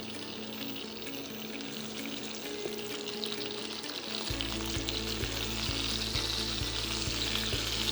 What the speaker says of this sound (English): Let's put our lollipops in.